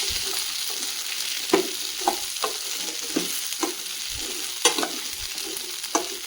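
Green chillies sauté in a pan, giving a steady soft sizzle broken by repeated scrapes and clacks as they are stirred.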